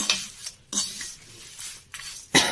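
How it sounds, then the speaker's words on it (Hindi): A spoon stirs 250 grams of poha roasting over low heat in a pan for chiwda, making short bursts of dry scraping and rustling close up between quiet pauses. "मंदी आंच पे इसे चलाते रहना है"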